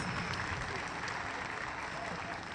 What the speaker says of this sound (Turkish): Onları alkışlayalım isterseniz.